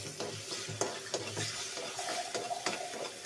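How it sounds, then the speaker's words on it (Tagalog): A utensil stirs egg into sautéed sotanghon noodles with tomato, onion and garlic in a sizzling pan, a steady close frying hiss broken by scraping stirs and light clinks. "Ihalo natin yung egg."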